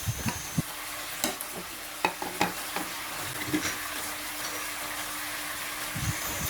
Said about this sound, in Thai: ผัดต่อเลยครับคลุกเคล้าให้เท่ากัน